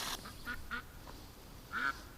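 A duck inside a shed gives several faint, nasal quacks, a few short ones and then a longer, louder one, over quiet background noise with no talking.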